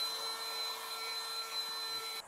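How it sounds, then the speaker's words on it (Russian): Car vacuum cleaner running inside a vehicle, a steady high-pitched motor whine with a constant airy hiss that cuts off abruptly at the end. "Согласись, хорошо, да, иметь пылесос в машине?"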